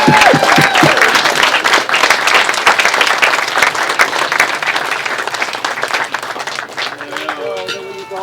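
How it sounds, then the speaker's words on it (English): Wedding reception guests giving a loud round of applause during the speeches, dense clapping close by that gradually thins toward the end, with a few voices over it. "Big round of applause for Helen, everyone."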